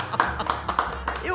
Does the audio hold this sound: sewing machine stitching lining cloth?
no